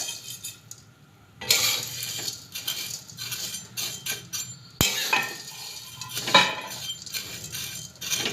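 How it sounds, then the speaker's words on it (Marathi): Vermicelli is dry-roasted in a pan for upma, heard as close, irregular scraping and clinking of a spoon against the pan, with a sharp knock midway and a light sizzle underneath. "आता आपण शेवया भाजून घेऊया"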